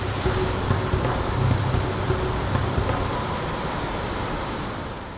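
Rushing water pours down the tiered cascades of Tad waterfall in Laos, churning into foam. The roar is a dense, steady wash of sound that stays loud throughout and slowly eases toward the end, with no voices.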